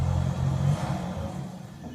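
A Triumph Herald's engine runs close by with a loud, low rumble that swells briefly and then eases into a rough, steady idle.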